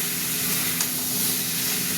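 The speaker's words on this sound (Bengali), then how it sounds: "এবার এইভাবে হতে থাক ভাজা ভাজা।" Large-cut pointed gourd, potato and pumpkin pieces fry in oil with turmeric in a pan, giving a continuous close sizzle broken by a few brief stirring scrapes.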